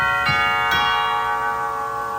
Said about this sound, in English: cathedral chimes,